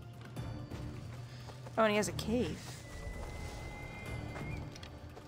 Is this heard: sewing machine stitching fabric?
no